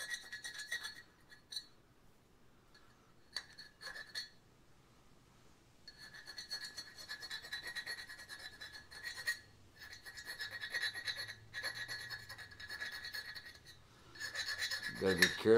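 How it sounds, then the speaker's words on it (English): A file rasps in intermittent strokes against an AR-10 rifle part to remove burrs, quiet and close, with pauses between bursts and a louder scrape at the end. "Take some of the burrs off here."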